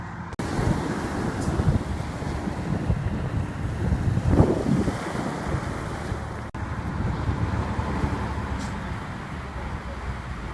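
Steady sea surf and strong wind at a Russian seashore, with heavy wind buffeting on the microphone masking the waves in a constant loud roar.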